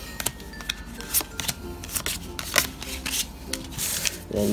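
Riffled Pokémon trading cards flutter in repeated quick bursts, close and crisp, with soft rustling between shuffles and no one speaking.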